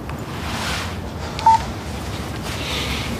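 A single short telephone keypad tone sounds once, alone over a steady low room hum.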